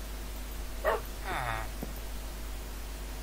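A Corgi in a Minecraft dog mod gives a short yip followed by a whining bark, faint over a steady low hum, with a brief click after.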